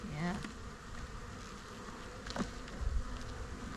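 Honey bees buzz around an open hive during an inspection in a bee yard, a steady, soft, close drone with brief louder swells as individual bees pass near.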